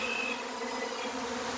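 A honeybee swarm buzzes in a dense, steady drone as the colony moves in during a mid-to-late afternoon, many wings humming together at moderate distance, with no voices.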